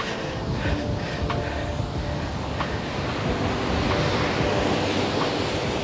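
Sea waves break continuously on the beach at Revu Polavaram village near Anakapalli, a broad rushing wash with faint wind over it that swells slightly toward the end, without any talking.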